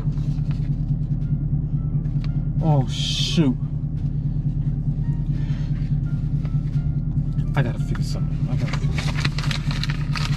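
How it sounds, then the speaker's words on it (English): A car left running idles with a steady, close, low rumbling hum throughout, while a person talks over it. "I left my car running."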